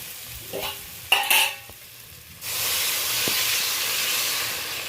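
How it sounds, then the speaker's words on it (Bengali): Hot water poured into a pan of frying ground spices, a few clinks and stirring scrapes, then a sudden loud, sustained sizzling hiss close up that keeps going to the end. "তার আগে অল্প আমি গরম জল অ্যাড করে দেবো"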